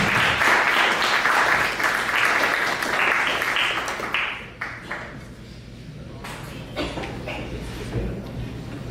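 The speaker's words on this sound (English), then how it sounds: "give them a round of applause" Audience applause at a live-streamed student presentation, a dense wash of clapping for about four seconds that then thins into scattered claps and tapers off, with faint murmuring underneath.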